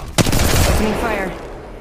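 Automatic gunfire in the Apex Legends Mobile video game: a sharp opening shot followed by a rapid burst of fire that tails off over under two seconds.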